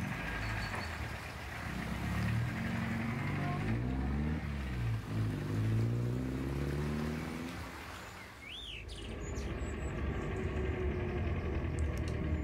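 A car drives off in The 39 Steps video game, its engine a steady low drone that shifts in pitch as it moves, with bird chirps layered over it.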